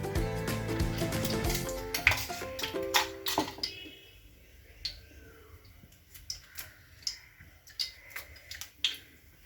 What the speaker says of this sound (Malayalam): ഇവിടെ കടുക് പൊട്ടി.